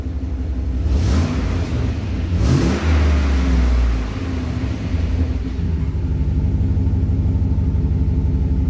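A car engine revving through an exhaust fitted with a DIY electric cutout gives two sharp throttle blips early on, then settles into a loud, deep, steady idle rumble close by.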